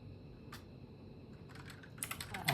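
Keys clatter on a computer keyboard while entering commands in a Linux terminal, a few isolated taps followed by a quicker burst of clicks growing louder toward the end, with no voices.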